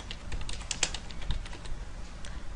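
Keystrokes on a computer keyboard entering form details such as city, address and zip code, a quick irregular run of close, moderately loud clicks with no talking.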